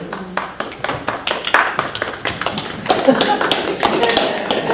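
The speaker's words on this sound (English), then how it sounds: "Raucous applause" Scattered clapping from a small crowd at a town planning board meeting in Rhinebeck, sharp uneven claps that thicken and grow louder toward the end, with some indistinct voices mixed in.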